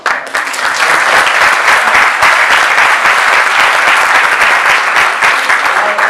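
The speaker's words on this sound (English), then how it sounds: "you guys should give them a round of applause." Conference crowd at a business talk giving a loud, sustained round of applause, dense overlapping claps close and full throughout with a few brief voices underneath.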